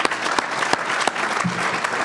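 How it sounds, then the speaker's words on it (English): Dense applause from the audience at a county budget luncheon held in a hotel venue, loud and steady throughout, with a few sharper claps standing out. "So a round of applause."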